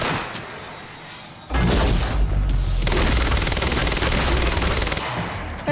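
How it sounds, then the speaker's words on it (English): Loud bursts of gunfire and explosions in Quantum Break begin abruptly after a quieter stretch, with rapid automatic fire rattling continuously for several seconds. "There's a lot of explosions going off in here."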